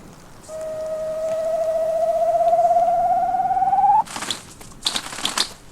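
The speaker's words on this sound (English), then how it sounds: "A male Siberian grouse, taking a last stand against winter and marking his mating ground for next spring." A male Siberian grouse gives a single drawn-out whistle that slowly rises for a few seconds on its snowy winter mating ground, followed by several sharp, rustling bursts.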